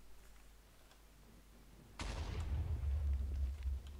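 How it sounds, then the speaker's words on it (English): In Minecraft, creepers blow up while fighting snow golems: one sudden heavy boom bursts in after quiet background, followed by a rolling low rumble that lingers to the end. "I am hearing explosions. I know what it is. The snow golems are fighting with creepers."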